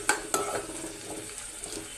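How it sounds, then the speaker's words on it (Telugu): Onions, green chillies, dried red chillies and curry leaves fry in hot oil with cumin for a sweet potato and raw mango curry, a soft sizzle under a couple of sharp spoon clinks against the pan. "ఇలా ఫ్రై చేసుకోవాలి."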